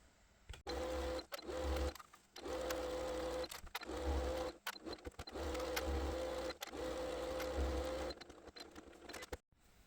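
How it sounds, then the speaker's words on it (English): A sewing machine sews a tote bag seam joining outer fabric to lining, whirring in several bursts of two to three seconds, separated by brief stops, close and fairly quiet. "I'm going to take it over the sewing machine and sew all the way around"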